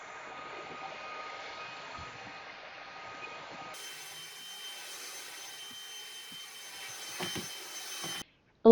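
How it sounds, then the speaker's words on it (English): A cordless vacuum cleaner set to turbo gives a steady, fairly quiet motor whine that steps up in pitch and intensity partway through, then cuts off abruptly just before the end. "Let's check out my new cordless vacuum."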